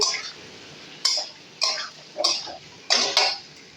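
Mustard seeds stirred in a pan for mustard mango pickle: five or six short scraping, clinking strokes of a spoon against the pan, spaced about half a second apart, close and alone.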